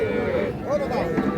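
Calves lowing at a busy livestock market, with several moos rising over a steady crowd murmur and people talking nearby throughout.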